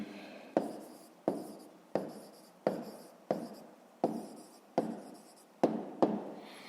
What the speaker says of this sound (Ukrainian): зараз тоді записуємо відповідь, пишемо відповідь